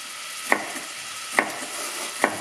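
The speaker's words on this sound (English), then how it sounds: "quality biological vegetables, and fry them in quality olive oil" Vegetables frying in olive oil give a steady, close sizzle, broken by three evenly spaced sharp clinks of a utensil against the pan.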